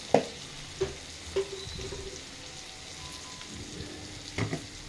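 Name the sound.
ginger garlic paste frying in pan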